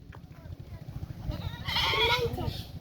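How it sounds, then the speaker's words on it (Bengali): A goat bleats nearby, a wavering call rising over a steady low rumble, with people talking around it. "ছাগলটা কার?"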